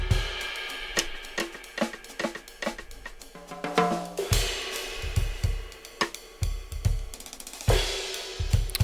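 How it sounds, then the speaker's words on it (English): A full drum kit plays a steady groove with punchy kick drum hits, crisp snare and busy cymbals, mixed without a bass-enhancing plugin on the kick, loud and close with no talking. "Without R bass, the kick would sound like this"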